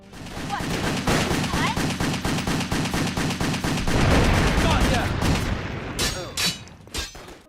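Pistols and guns blaze in the video game Wet, the rapid regular shots forming a loud, continuous volley for several seconds before breaking into a few scattered final bursts.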